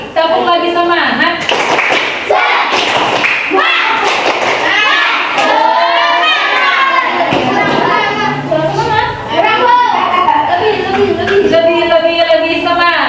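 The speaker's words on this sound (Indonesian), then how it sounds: "Lagi, tepuk lagi semangat" Again schoolchildren in an Islamic religious education classroom perform a rhythmic spirit clap, repeated loud claps and desk thumps woven through excited chanting and children's voices.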